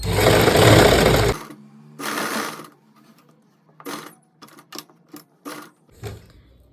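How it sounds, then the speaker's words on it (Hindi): A sewing machine stitches a lining pant slowly, starting with a long loud run of stitching, then short bursts separated by pauses, close up. "अब यहाँ पे स्लो प्रोसेस से सिलाई लगाएंगे।"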